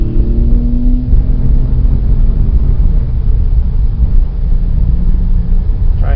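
A Porsche 997.1 S with a 4.1L engine powers out of a corner in third gear from low revs, giving a loud, continuous rumbling drone heard from inside over road and wind noise, with no talk.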